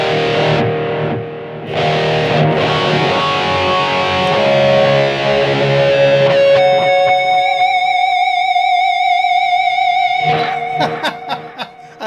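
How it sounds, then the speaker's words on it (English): Electric guitar through a BOSS eBand JS-10 with a Steve from Boston EQ preset, distorted sustained lead notes and chords ringing loudly, ending in a few sharp picked stabs, with brief laughter early on. "Let's put on the Pixie Licks Steve from Boston EQ"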